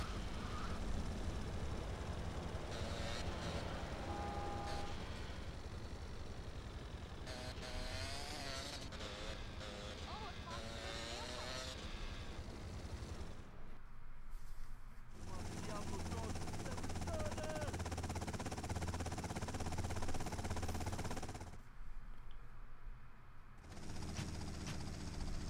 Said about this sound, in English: Let's follow this helicopter.